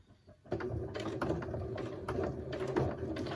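Home sewing machine stitching a double-sided fabric placemat with mitred corners, a steady close mechanical whir with rhythmic needle clatter running continuously after a brief quiet start.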